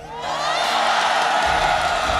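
A large crowd at a Mobile Legends esports playoff event cheers and whoops in a dense, sustained roar that swells and holds steady for a couple of seconds, with scattered shouts rising above the mass of voices.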